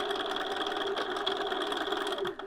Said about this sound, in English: I have my edge stitching foot on it still from our last pass, and I'm just gonna sew on either side